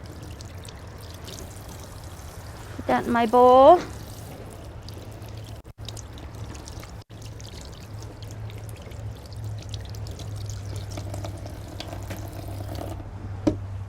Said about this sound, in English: Turn on my handy dandy